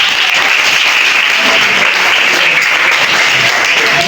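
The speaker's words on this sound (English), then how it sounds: "Clap your hands for Jesus." A church congregation claps their hands in praise, a dense, steady wall of applause holding loud and even throughout with no voices standing out.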